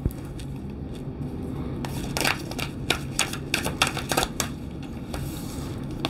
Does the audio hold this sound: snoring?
no